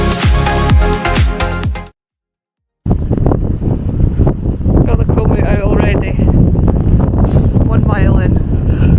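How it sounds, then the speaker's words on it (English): Strong wind buffets the microphone on a coastal trail in Portugal, loud, gusty rumbling that cuts out briefly, then returns while a person talks over it. "As you can probably hear, it's really windy"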